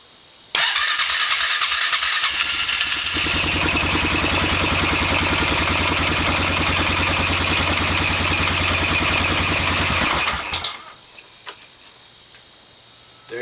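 A Polaris Sportsman 500 EFI ATV with a newly replaced fuel pump cranks briefly, then catches and runs at a steady, loud idle for about ten seconds before shutting off, heard up close with no talking.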